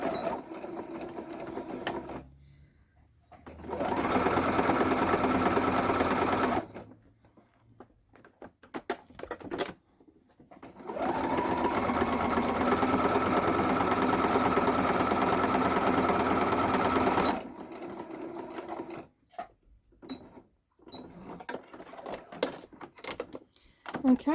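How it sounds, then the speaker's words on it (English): A sewing machine stitches the side panels of a large fabric bag with a quarter-inch seam. Two long runs of fast, even mechanical whirring are close and alone, broken by quiet pauses and small handling clicks. "we're going to use our 1/4 inch seam allowance, okay, and we're just going to stitch straight down"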